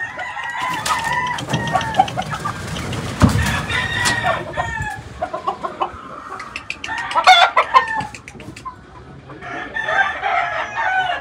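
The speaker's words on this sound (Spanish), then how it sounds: "Tres gallinas bishop con un gallo bishop." Kelson Bishop hens and a rooster cluck repeatedly and crow close by, with someone speaking briefly in between.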